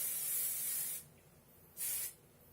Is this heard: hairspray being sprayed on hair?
yes